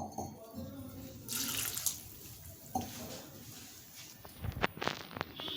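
Water splashes into a pressure cooker holding spinach and peanuts in bursts of pouring, with a couple of louder gushes and brief handling noises in between.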